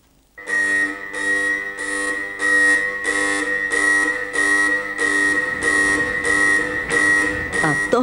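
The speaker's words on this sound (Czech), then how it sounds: "Rozumím, vyhlašuji poplach." An alarm buzzer blares for a practice alert, one steady, loud, continuous electronic tone pulsing in even bursts for about eight seconds.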